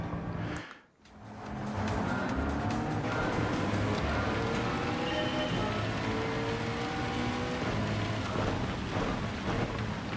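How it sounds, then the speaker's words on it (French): Steady, heavy rain in a racing video game, Gran Turismo 7, pours down with a dense hiss, briefly dipping near the start before resuming at full strength, with a low rumble underneath. "La pluie qui donne bien dans le casque"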